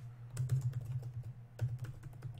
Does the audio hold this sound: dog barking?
no